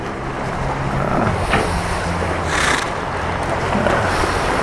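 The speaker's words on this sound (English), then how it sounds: "We've got a rough sea and that's a jetty playing up." A rough sea churns against a jetty in a steady, loud roar. Broad rushing wash and low rumble swell and ease without a break, and no voices are heard.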